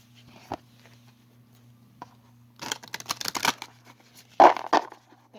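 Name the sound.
shuffling a deck of cards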